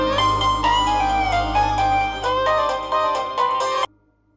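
A mobile phone ringtone plays alone as a bright, steady electronic melody with a low hum underneath, lasting about four seconds before cutting off abruptly.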